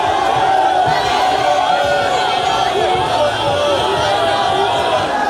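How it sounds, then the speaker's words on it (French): A large jubilant crowd in Gemena roars with continuous loud cheering, shouting and chatter, dense and unbroken throughout. "une foule en liesse toujours aussi nombreuse"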